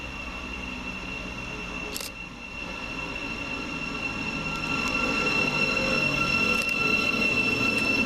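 A Govia Thameslink Class 700 electric train, unit 700 146 on the Brighton to Bedford service, pulls into St Albans City station with a steady loud rumble, rising wheel noise and a sustained high-pitched whine.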